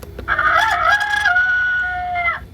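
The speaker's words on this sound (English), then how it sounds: "A rooster." A single electronic rooster crow from a CareTech ZeitGeist clock rings out clearly, rising then holding a long tinny note before cutting off, with no voices.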